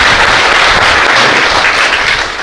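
A village crowd at a devotional bhajan gathering claps together, a loud, dense, continuous wash of hand claps that tapers slightly at the end.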